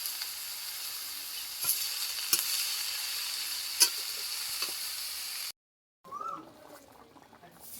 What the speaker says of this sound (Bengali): ওর মধ্যে এইবার এই বাঁধাকপিগুলো দিয়ে দিচ্ছে।